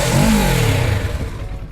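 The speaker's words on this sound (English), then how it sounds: "we're gonna show you the sound of the 650 and with its factory small exhaust" A Kawasaki Ninja 650 sportbike on its stock factory exhaust blips once, a short rising rev that falls away quickly, close and fairly loud, with no one talking.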